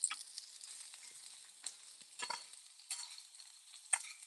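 Tortilla pieces frying in coconut oil for Tex-Mex migas, a quiet crackling sizzle with intermittent scraping and stirring in the pan, heard alone without talk.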